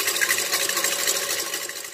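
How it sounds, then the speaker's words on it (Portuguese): An electric stand mixer whips egg whites to stiff peaks for a cornmeal cake, its motor a close, steady whirring hum with a slight rhythmic flutter of the beaters. "Aqui na minha batedeira eu vou começar batendo as minhas claras em neve"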